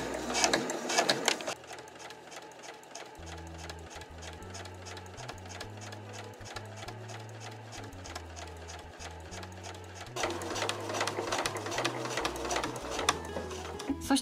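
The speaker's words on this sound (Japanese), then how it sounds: "今回は家庭用ミシン重機の EX7 を使用します。" EX7 heavy-duty home sewing machine stitching a fur tote bag, a steady rapid mechanical whirring and ticking that runs nearly throughout, close and clear with a brief pause early on.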